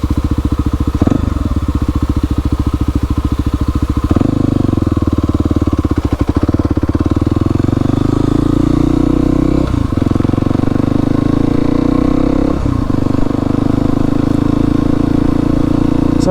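A Kawasaki KLX 300 dual-sport motorcycle ridden slowly along a paved road, a loud, close steady engine drone that rises through gear changes, with brief dips where the throttle eases or the gear shifts.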